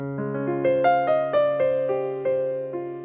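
Sustained piano chords from outside the key ring over a held bass note, changing every few beats in a slow, steady rhythm, clear and close with no voices.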